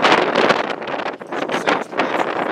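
Blustery outdoor wind buffets the microphone in loud, continuous rumbling gusts while a Mercedes C220 Executive SE coupe is filmed in sunshine, with a brief lull near the middle before the buffeting picks up again.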